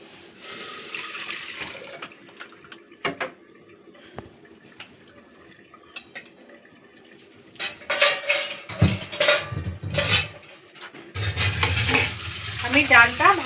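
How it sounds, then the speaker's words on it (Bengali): Hot water poured into a pot of dal, a quiet start with light clinks giving way to loud splashing and gushing bursts near the end, rising and falling in waves. "এবার আমি জলটা ডালের মধ্যে দিয়ে দিচ্ছি।"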